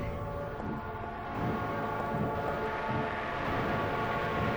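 A train in the video game Silent Hill 3 rumbles steadily with a low, rolling clatter and droning tones, loud and continuous throughout with no talking.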